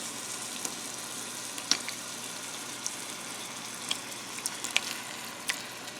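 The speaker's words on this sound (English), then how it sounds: "After the celery is cooked, I add my diced tomatoes into the mixture" Diced tomatoes go into a cooking chilli mixture of celery in a pot, giving a steady soft sizzle with faint scattered clicks and splashes, close and moderately quiet, with no voices.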